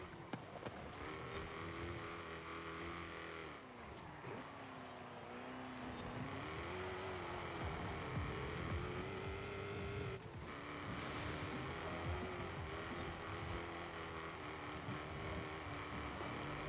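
A supercharged 450 hp spec-series car in Forza Horizon 5 revs through corners, its engine drone rising and falling in pitch as it brakes and accelerates, with a few sharp shift dips and no talking.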